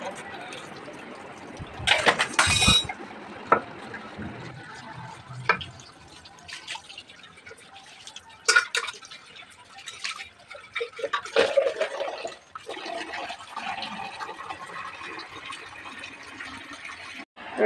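Dishes being washed under running water, with irregular splashes, drips and clinks of utensils scattered through, a faint background murmur and a few sharper knocks, close by.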